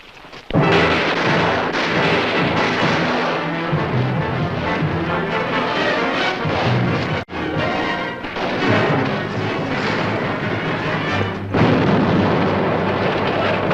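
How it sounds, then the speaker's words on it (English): A Western gunfight in the old frontier unleashes heavy gunfire and an explosion as one loud, dense, continuous roar. It barely pauses for about thirteen seconds. "All right, start shooting."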